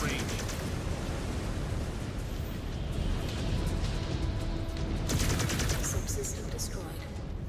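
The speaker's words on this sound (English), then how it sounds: "Firing down range." Mech weapons firing in Mechwarrior 5: Clans: sustained rapid gunfire and rumbling blasts roll on without pause, with sharper cracking shots toward the end and faint speech underneath.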